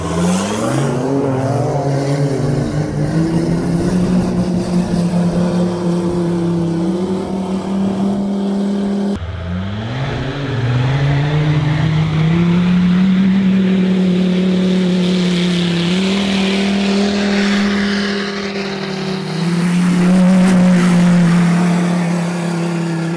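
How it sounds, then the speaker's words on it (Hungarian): A Ford Ranger Raptor and a built Mercedes G-Class, one with a 2.9-litre engine, climb a sand dune, their engines droning loud and close with rising revs and steady strain throughout, no talk. "Jobb sarokban Oliver a Ranger Raptorral, balban pedig Magyar Tomi az épített G-osztállyal."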